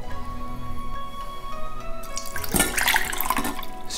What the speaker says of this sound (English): strain the soaked rice and add it to a large bowl